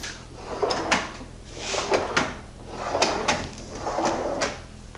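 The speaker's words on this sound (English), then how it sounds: "perfect close of the drawer." A professional-grade cabinet drawer with rubber bumper dots sliding open and shut repeatedly, making soft, muffled rolling thuds in a steady back-and-forth rhythm, close by.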